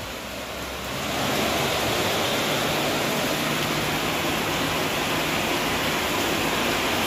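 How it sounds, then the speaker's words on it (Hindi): Heavy rain pouring down hard during travel to Nanded, a dense, loud hissing wash that swells after the first second and stays constant, with no talk. "फुल जोर से दबा के जोरों शोरों से पड़ रही बारिश"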